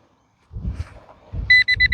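A Nokta Legend metal detector fitted with an LG24 coil sounds a rapid run of sharp, repeated electronic beeps after a few dull, low thuds from the ground.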